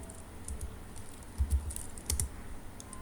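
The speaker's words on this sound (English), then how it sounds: "type the slash twice" Keys tapped on a computer keyboard while entering Python code, a few quiet clustered keystrokes over a faint steady background hum.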